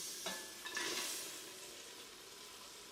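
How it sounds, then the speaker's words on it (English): Fried gizzards being stirred in peppered sauce in a pan, a few scraping stirs over a soft continuous sizzle, close and fairly quiet. "Now stir well to coat all the gizzards with the delicious peppered sauce."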